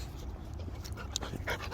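Sophie, a dog on a farm, pants close by in quick, steady breaths, faint and soft, with a couple of brief higher whimpering catches near the end; no talk.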